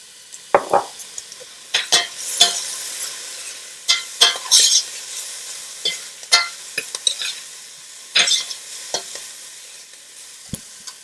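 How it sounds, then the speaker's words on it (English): Onion and garlic mixture frying in a pan sizzles beneath sharp, irregular scrapes and clinks of a utensil against the pan, close up and without speech. "And I'm gonna go in with my onion and garlic mixture, that amount."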